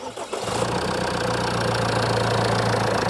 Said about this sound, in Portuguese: vamos fazer em marcha lenta. Por favor, partida no motor.